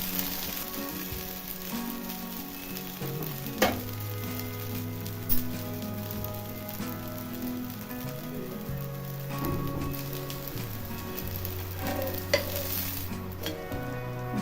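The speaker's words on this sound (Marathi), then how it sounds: "लसूण आता दोन्ही बाजूने चांगला छान असा भाजून घ्यायचा आहे" Garlic fries in a pan for spinach dosa, giving a constant close crackling sizzle with occasional sharper pops over a steady melodic background.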